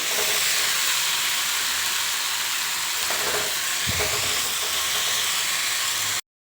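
Poppy seeds frying in a pan on medium flame make a loud, continuous close sizzle with a brief clunk midway, then it cuts off abruptly.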